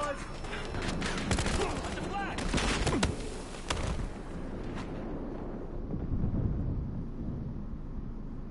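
Gunfire in the shooter game Battlefield Hardline: dense bursts of rapid shots and booming blasts crackle throughout, loud and continuous, with a player's voice talking over the action.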